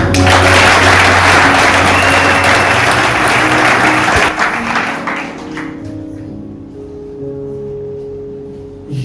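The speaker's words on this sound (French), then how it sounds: "Applaudissez." Wedding guests applauding during a marriage ceremony in a hall, loud, dense clapping that fills the room for about four seconds and then fades away, leaving a quieter tail with low hum.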